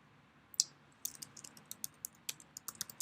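Short burst of computer keyboard typing: an isolated key click, then a quick run of irregular light keystrokes, close and clear in a quiet room.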